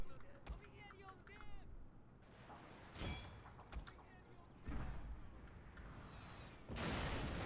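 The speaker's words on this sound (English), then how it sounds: "now we can put the cannons to work" Cannon artillery firing in the strategy video game Total War: Shogun II, heard as several separate booms and blasts scattered over quiet battle ambience, followed by a louder rushing burst at the end.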